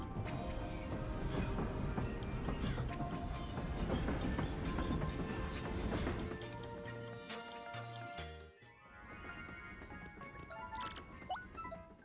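Train ride in the video game Paper Mario: The Thousand-Year Door, a steady rolling rumble with clattering rhythmic ticks and game music tones, fading briefly before lighter chiming sounds close it out.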